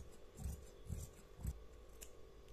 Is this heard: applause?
no